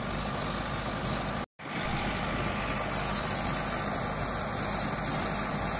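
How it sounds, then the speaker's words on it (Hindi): A tractor pulling a 7-foot Shaktiman rotavator works through a dry, dusty field, its engine droning loud and steady with a dense broadband roar, cut by one brief dropout. "सुक्के की खेत की जुताई होते हुए भाइयों, बहुत जबरदस्त चला ट्रैक्टर"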